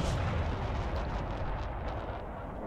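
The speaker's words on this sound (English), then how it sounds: "I'm firing artillery there." Artillery firing in Broken Arrow, a deep rumbling boom at the start rolling into a sustained low roar of blasts, dense and fairly loud, with no talk.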